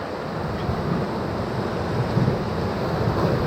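Whitewater of the Flume rapid on the Ocoee River roars continuously while rafting, a dense, steady rush of churning water mixed with wind noise close around the microphone.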